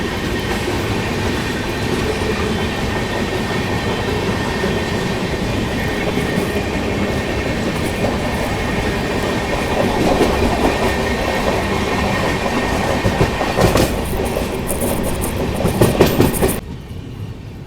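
A Shatabdi Express train rumbles along near Lingampally with a steady, loud rolling roar and faint clatter of wheels, swelling slightly before cutting off near the end; no voices.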